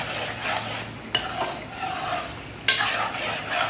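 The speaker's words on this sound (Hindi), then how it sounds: "मिक्स करेंगे अच्छे तरीके से" Cream being stirred into chicken malai handi in a pot over a low flame, a steady scraping stir with a soft sizzle beneath and two sharp clinks of the spoon against the pot, no talking.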